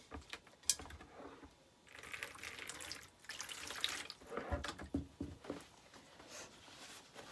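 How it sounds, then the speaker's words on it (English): Water splashes and runs in uneven bursts as it is poured into a glass container during glass etching, with some clinks and drips, fairly quiet and close. "I'm going to dump some water in here."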